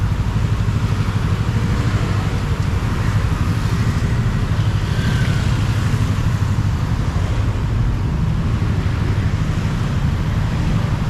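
Motorcycle and street traffic along a busy road in Asoke, Bangkok, heard as a loud, continuous low engine rumble with wind buffeting, no distinct pass standing out.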